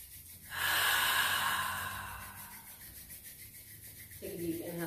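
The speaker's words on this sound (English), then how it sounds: "Take a deep inhale in." A single long, close breath drawn in slowly through the nose, airy and rushing, then fading into quiet room tone.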